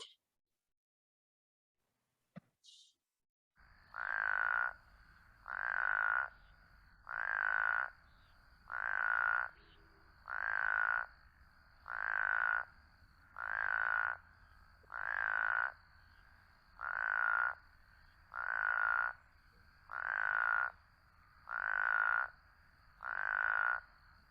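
Frogs calling during a frog and toad call survey, a steady series of about fourteen evenly spaced, flat nasal croaks, each roughly a second long, clear and close against a quiet background after a brief click at the start.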